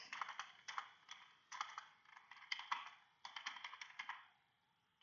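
Computer keyboard typing as a commit message is written, bursts of quick close clicks in irregular runs with short pauses, fairly quiet and alone.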